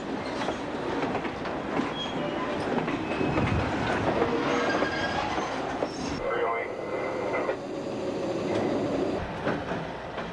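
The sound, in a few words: Alco RS-3 first-generation diesel locomotive train passing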